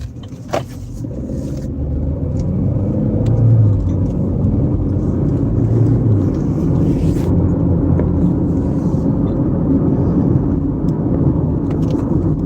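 A convoy of cars driving by, a loud continuous low engine and tyre roar that holds steady throughout with no voices.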